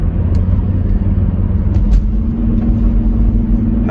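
Volvo 850 T5 in slightly worn condition, heard from inside while driving: a constant loud low engine hum and road rumble with a faint steady tone rising slightly, no voices.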